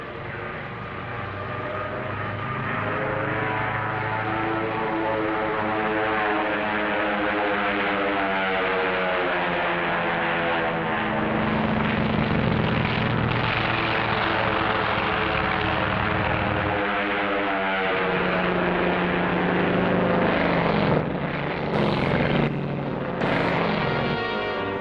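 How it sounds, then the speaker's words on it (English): A steady droning engine hum of propeller drone aircraft flying overhead, launched from a carrier during the 1946 Operation Crossroads tests, continuous and fairly loud with a slowly wavering pitch. "the drone aircraft are launched and temporarily guided from the carrier"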